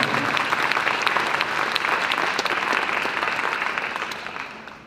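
Audience applause at the EICAC 2024 opening ceremony, a sustained burst of many hands clapping in a large room, loud at first and gradually tapering toward the end.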